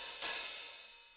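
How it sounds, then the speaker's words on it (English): A half-open hi-hat on a drum kit is struck once, giving a bright, sizzling wash that rings out and slowly fades with no other sounds. "where the hi-hat is a little bit half open,"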